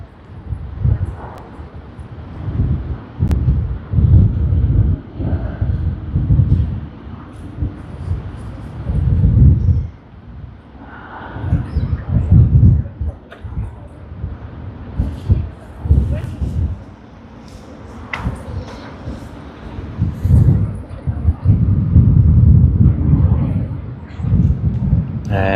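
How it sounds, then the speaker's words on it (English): A Boeing 777-300ER airliner at Sydney Airport gives a deep, rumbling jet roar that swells and fades in waves, heard from a distance outdoors with gusty wind noise and a voice talking over it. "Here you are, the Boeing 777-300AR."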